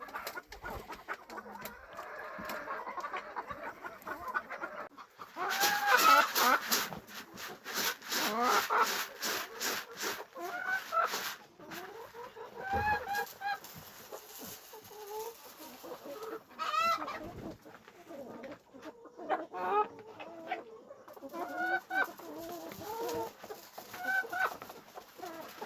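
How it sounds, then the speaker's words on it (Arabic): Hens cluck on a rural farm, their calls scattered and fairly faint among rustling and scraping noises, with no one talking. "لقيت الدجاج تسالى له الماء والدجاج عطشان ديال بصح"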